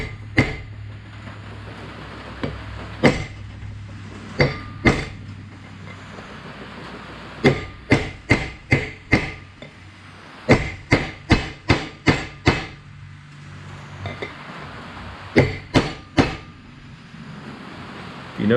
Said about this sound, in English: I'm using a big hammer, but I'm not hitting it very hard.